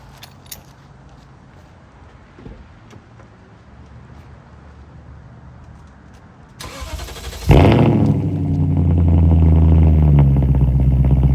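A BMW E39 540i V8 with straight-pipe exhaust sits quietly, then cranks and fires up with a sudden loud bark before settling into a deep, droning, rumbling idle, close and alone.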